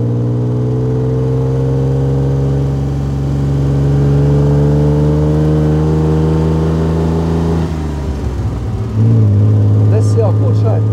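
A 1938 Alvis Speed 25 SB pulls uphill with a loud, steady in-cabin engine drone that rises slowly. It dips briefly during a gear change, then resumes at a lower, stronger pitch.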